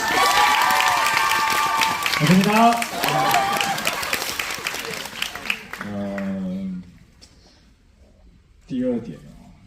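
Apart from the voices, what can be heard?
audience applause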